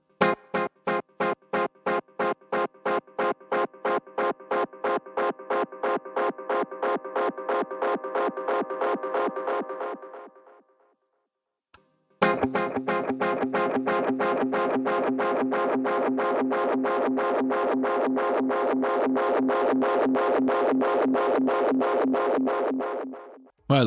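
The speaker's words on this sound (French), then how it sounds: "c'est vraiment ça qui fait le son typique des échos à bande comme ceci" Tape echo effect on a dub mixing setup, repeating pulses in a steady rhythm that smear and thicken as the signal gradually degrades, then a brief gap and a denser, louder wash of echoed repeats.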